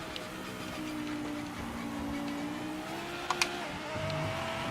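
Corvette race car in the Project Motor Racing video game, a steady engine drone with a sustained tonal whine running throughout, briefly rising near the end, with no voices.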